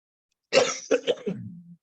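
A single adult coughs nearby, a short harsh burst followed by two quick throaty hacks and a trailing rasp, with no talk around it.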